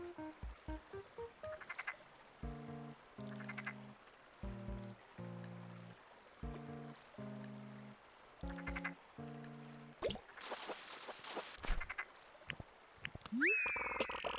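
Frog croaking in the Animal Crossing: City Folk video game, a series of short stacked tonal croaks in a regular pulsing rhythm, alternating with soft taps, then a bright chiming game jingle at the end.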